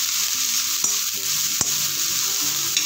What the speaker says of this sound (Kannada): ಸ್ವಲ್ಪ ಬೀನ್ಸ್ ಪಲ್ಯ ಮಾಡ್ತೀನಿ